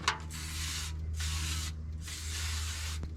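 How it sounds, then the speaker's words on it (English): Butter-flavored non-stick cooking spray hissing onto a pan at winter camp, two close, steady aerosol bursts each lasting about a second, separated by a short pause, over a low background hum. "let's get our pan sprayed"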